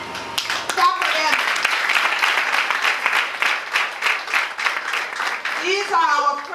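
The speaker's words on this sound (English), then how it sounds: "Clap for them." Audience clapping for visiting guests from Korea at a Day of the Girl Child celebration in rural Montserrado, Liberia: dense, steady applause from a crowd for several seconds, with voices and shouts mixed in near the end.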